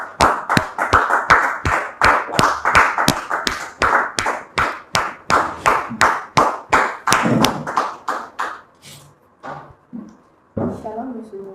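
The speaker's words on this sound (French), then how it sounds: "On les reçoit par des applaudissements," Studio audience on a television talk-show set claps in a quick, even rhythm of loud, close hand claps that thin out toward the end, followed by a short burst of speech.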